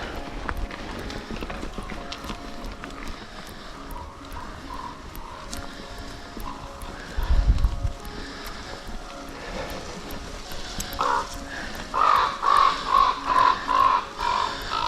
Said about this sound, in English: Funny crows making all kind of sounds.